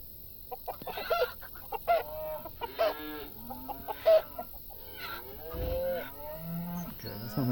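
Cattle moo repeatedly in the Farm Manager 2018 video game, several drawn-out lowing calls mixed with chicken clucks in a farmyard game soundscape, clear and fairly loud with no talk.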